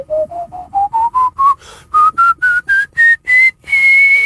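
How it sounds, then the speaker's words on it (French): A person whistles a clear melody close up, a series of short, distinct notes that climb steadily upward in pitch and end on one long sustained tone, loud and alone. "tu as une tessiture de sifflement"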